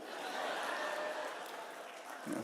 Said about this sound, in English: Not as many are clapping.